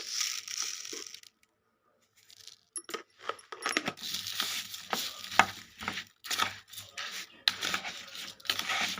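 Guava lemon chaat being stirred with sugar in a bowl by spoon, giving a run of close, scraping clinks and wet crunchy mixing strokes after a brief quiet pause.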